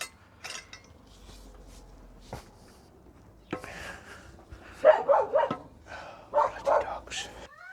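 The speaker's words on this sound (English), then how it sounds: "Dogs." Dogs barking outdoors beside garden raised beds, a series of sharp barks and yips that grow louder and cluster toward the end, with quieter scattered noises and a few gaps in between.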